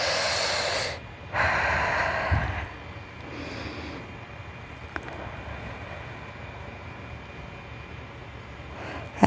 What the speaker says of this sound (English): And breathe. Let's take 3 breaths here.